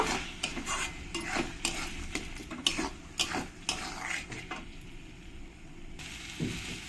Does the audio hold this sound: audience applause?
no